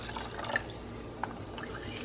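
Mineral water pours softly into a kefir mixture in a bowl, a faint steady trickle with a few small splashes, close by and without speech.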